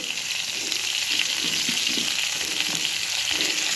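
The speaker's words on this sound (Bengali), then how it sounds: "এবার এই সব সবজিগুলো একটু হালকা করে ভেজে নেব।" Potato, eggplant and other vegetables for shukto frying lightly in oil, a dense, continuous sizzle with a few soft stirring sounds underneath.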